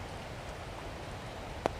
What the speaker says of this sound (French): il s'est mis à pleuvoir, donc c'est cool.